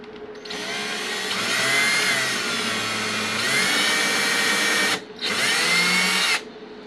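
A power drill, or a Dremel with a drill bit, bores into balsa wood while making cemetery gates. The high whining motor runs loud and steady in two long bursts separated by a brief pause.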